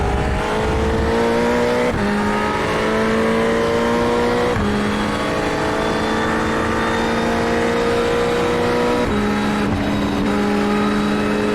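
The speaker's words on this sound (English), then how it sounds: "Some cars coming out of the pits." Ferrari 488 race cars in the iRacing sim at the Red Bull Ring, a continuous loud engine drone with rising pitch sweeps through repeated gear changes as cars accelerate out of the pits.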